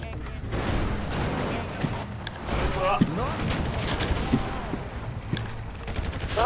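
Video game gunfire crackles in scattered bursts and single shots amid the noise of play, fairly close, while people talk excitedly over it.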